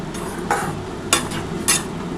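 Katla fish is stirred in a pan on high gas, with three distinct scraping sweeps against the pan over a low, steady sizzle, heard close and without speech.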